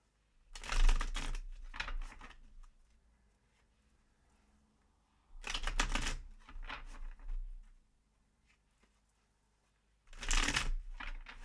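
Tarot cards being shuffled in three separate bursts, each a close, crisp riffling patter lasting a couple of seconds, separated by quiet pauses.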